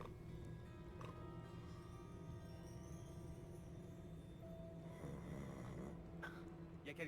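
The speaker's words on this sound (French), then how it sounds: "il y avait quelqu'un qui ronflait là." A character snores steadily and softly in the video game Hogwarts Legacy, a continuous low drone running through the whole stretch over faint background tones.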